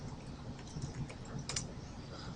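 Quiet computer keyboard typing, a short run of soft key clicks close by with no talking.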